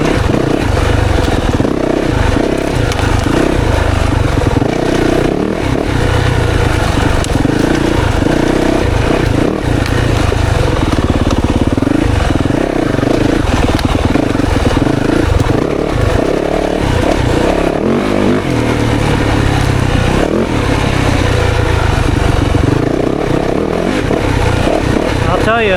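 A 2024 Yamaha YZ450FX dirt bike rides through woods, its engine revving and bogging continuously up close as the rider shifts through gears, with clattering and scraping from the trail and the rider talking over it.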